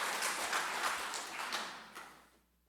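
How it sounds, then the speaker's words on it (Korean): A church congregation clapping during a Sunday service, a dense mass of applause from many hands that fades out to near silence over a few seconds. "하나님께 영광의 박수 올려드립니다."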